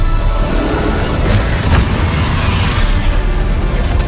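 Spell impacts in Hogwarts Legacy, an Expelliarmus cast among other spells, come as a dense, loud magical rumble with two sharper bursts partway through, steady throughout with no talking.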